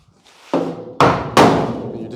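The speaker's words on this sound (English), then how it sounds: "It's 10-pound sledge." A 10-pound sledgehammer strikes 18 gauge sheet metal on a 1951 Ford rocker panel, three loud, close metallic blows, each decaying quickly, with a faint tap before them.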